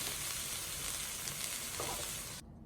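Preserved mustard greens and pork stir-frying in a wok give a steady, close sizzle that runs evenly for a couple of seconds and then cuts off abruptly as the heat is switched off.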